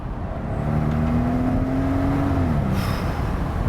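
A new car accelerates hard from inside, its engine note climbing in a steady rising whine over a loud, constant road and wind rush.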